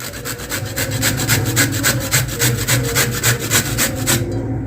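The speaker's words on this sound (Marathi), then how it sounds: "तर गाजर आपण असं चांगलं किसून घेऊया." A carrot is grated by hand in quick, even back-and-forth strokes, about a dozen crisp rasping scrapes close to the listener before stopping abruptly.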